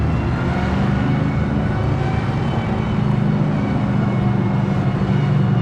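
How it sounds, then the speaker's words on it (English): A retro GT race car in a racing video game pulls away from the pits at Rocky Knoll, its engine a steady, loud, close drone that holds on without pause. "I'll push the clutch in, put it in gear. Now I'm rolling."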